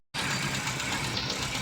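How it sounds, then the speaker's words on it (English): A Volkswagen Polo Classic with an over-fuelling fault starts abruptly after a brief silence, then settles into a steady, loud idle. "Car is idling."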